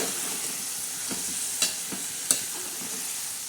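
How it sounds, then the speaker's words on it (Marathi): Green chilli usal, made with chopped green chillies, onion and turmeric, sizzles steadily in a pan while being stirred, with a couple of sharp scraping clicks from the spoon over the constant hiss. "आता मस्तपैकी अशी ही उसळ आपण हलवून घेणार आहोत"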